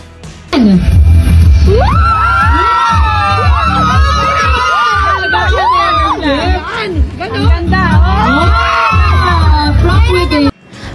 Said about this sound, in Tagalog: Hiyawan naman ang mga tao sa paligid pagkatapos gawin ni Andrea ang paghawi sa kanyang buhok sabay pose.